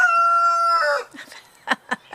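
A rooster crows loudly and close by in one long harmonic call, followed by a few soft clucks and short bursts of nearby rustling.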